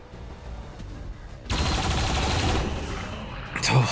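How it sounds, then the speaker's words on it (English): An automated turret in the modded XCOM 2 video game lets loose a sudden rapid burst of gunfire that holds steady for a couple of seconds before breaking off, after a quieter lead-in. "turret on the rampage"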